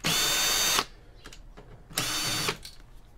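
A power driver fitted with a Torx T15 bit on an extender spins out screws from a small form-factor PC, two loud whirring bursts of under a second each separated by faint clicks and handling noise.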